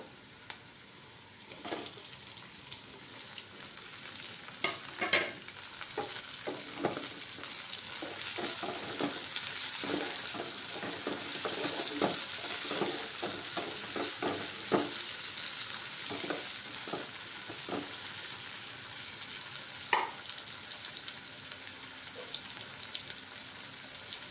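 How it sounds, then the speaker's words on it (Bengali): Chopped tomato frying and being stirred in a hot pan for a coconut milk fish curry, with steady sizzling and repeated scraping and stirring clicks throughout, close and moderately loud. "এবার আমি একটা টমেটো কুচি দিয়ে দেব"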